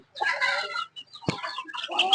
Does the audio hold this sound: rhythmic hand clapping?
no